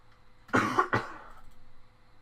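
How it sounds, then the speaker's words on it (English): Two short, harsh coughs in quick succession, close to the microphone, followed by quiet background hum. "I always have just a lingering cough for some reason."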